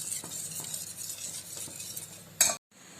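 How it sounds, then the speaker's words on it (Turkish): A spoon stirs a pot of food while water is added in a home kitchen, with soft scraping and swishing strokes, a sharp clink near the end, then a brief silence. "Hem su ilave edeyim hem karıştırayım"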